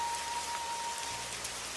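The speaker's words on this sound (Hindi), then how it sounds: "अब सड़क पर सिर्फ बारिश की आवाज़ सुनाई दे रही थी।" Steady rain falling in a cartoon street scene, a continuous even hiss with no talk over it.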